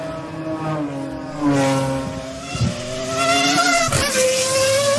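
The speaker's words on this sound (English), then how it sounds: "driving this car up the Goodwood hill climb" A Williams FW26 Formula One car drives up the Goodwood hill climb, its engine note rising and falling through gear changes as it revs and accelerates, loud and steady at moderate distance.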